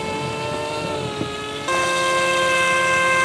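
A small electric motor in a Lego RC boat whines steadily, then steps up to a higher, louder pitch as it is pushed to full throttle.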